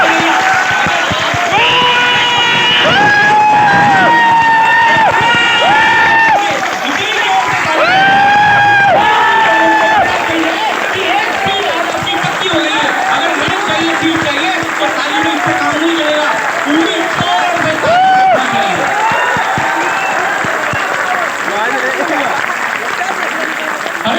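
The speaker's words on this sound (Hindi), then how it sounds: "अगर ताली भी बजानी तो पूरी बजाओ" A large audience at an offline coaching centre in Kota claps and cheers loudly and continuously, with whoops rising over the steady applause and voices mixed in throughout.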